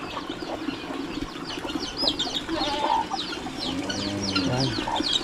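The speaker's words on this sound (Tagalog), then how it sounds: "May bagong sisiyo naman mga kaprobinsya" Chickens cluck nearby alongside newly hatched chicks, with a steady stream of high, thin peeping over low hen clucks and a bit of rustling in an outdoor farm setting.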